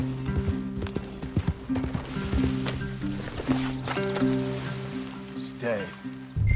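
Horses move through the woods in Red Dead Redemption 2, with hooves clip-clopping irregularly under steady music and ambient forest sound, the steps fairly soft and mixed low.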